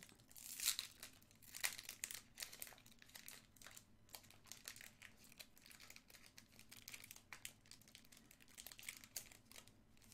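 A Pokémon booster pack wrapper, stubborn to open, crinkles and tears in a run of close, crackling bursts, louder at first and then continuing more softly in scattered rustles.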